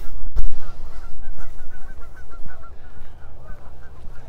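Canada-style park geese honk in a steady, rhythmic series at moderate distance, layered over low wind rumble, with a couple of sharp knocks near the start.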